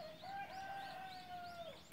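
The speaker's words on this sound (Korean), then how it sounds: "수탉은 지금 밥 달라고 짖었습니다" A rooster crows, faint and distant, in a quiet rural setting: one drawn-out call with a steady held tone and a few fluttering inflections before it fades.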